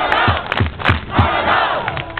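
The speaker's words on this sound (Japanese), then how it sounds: "どうぞ皆さん大きな拍手をお願いいたします" A crowd of football supporters cheers and chants at a farewell gathering for a departing Kawasaki Frontale player, loud and close, with a few heavy rhythmic thumps marking a steady beat beneath the voices.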